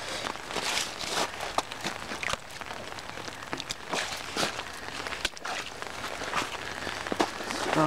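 Rain patters steadily on thawing, snowmelt-soaked ground near a pond, with soft crunching footsteps mixed into the continuous wet hiss.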